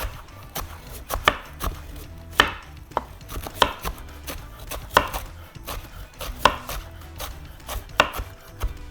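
A knife chops carrots on a board, sharp irregular knocks at a brisk uneven rhythm, close and fairly loud, with no talk.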